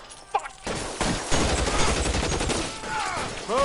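Tommy gun bursts crackle in rapid automatic fire during an L.A. Noire shootout, loud and dense, overlapping with game sounds and a brief voice.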